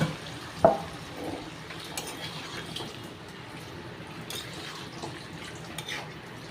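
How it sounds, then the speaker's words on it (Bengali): A spice paste of ground ginger, radhuni, a little mustard and chillies is stir-fried in a pan, with a soft steady sizzle, a sharp clank of the spatula early on and faint scraping strokes. "মশলাটা দিয়ে এবার কিছুক্ষণ কষাতে হবে"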